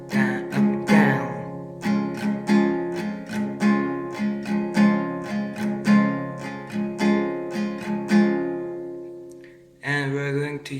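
Steel-string acoustic guitar strummed in a steady down-up pattern, with certain strokes hit harder as accents; bright, close and alone, ringing chords with a short new chord at the end.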